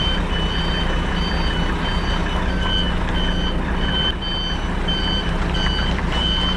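A Volvo FM 500 truck reversing sounds a loud, regular series of high electronic beeps over the steady rumble of its idling engine, close by and without pause except for one brief dip.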